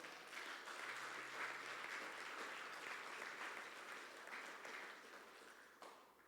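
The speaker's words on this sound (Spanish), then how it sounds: "¿Cuántos le dan un aplauso al Señor?" A church congregation applauds together in a sustained wash of clapping that fades slightly toward the end.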